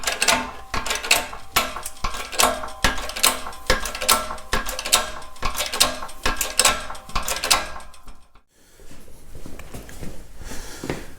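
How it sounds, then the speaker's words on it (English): Metal parts of a Caterpillar D2 final drive clank and ratchet as a new bearing is pressed onto the shaft, steady loud rhythmic knocks for about eight seconds, then a brief pause and quieter mechanical noise. "So now we're pressing the first new bearing onto the shaft."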